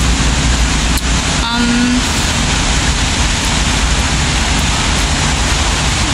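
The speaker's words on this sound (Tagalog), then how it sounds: "Tsaka sobrang lakas na po ng ulan." Heavy rain during a black rainstorm in Hong Kong pours down in a loud, steady roar that continues without a break for the whole stretch.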